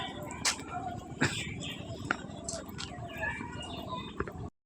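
A few pigeons in a home loft give faint, low coos in the background, partly masked by a person talking and other household noise.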